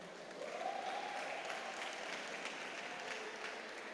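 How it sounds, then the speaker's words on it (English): Audience applause at an Equal Education Human Rights Day celebration, a steady wash of clapping from a crowd holding at an even level for about four seconds, with a faint tonal voice-like sound early on. "Can we give a round of applause"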